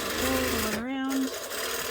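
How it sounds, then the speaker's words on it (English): An embroidery sewing machine stitches around a fabric Easter basket, its fast rhythmic needle chatter running steadily while a person's voice briefly rises over it partway through. "So this one we can just sew all the way around."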